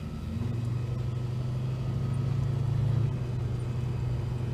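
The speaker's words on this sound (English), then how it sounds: "let's send you back down the main street, have a drive through town" A car drives down the main street through a quiet town, a steady low engine and road rumble heard from inside the vehicle, rising slightly then easing.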